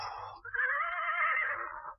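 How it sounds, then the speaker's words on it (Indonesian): Horses neigh in a radio drama effect: a high, wavering whinny rises after a brief lower snort and holds for over a second, loud and close, over faint low thumps that may be kicking hooves. "Loh, kuda-kuda itu kok tiba-tiba jadi marah? Menyepak-nyepak."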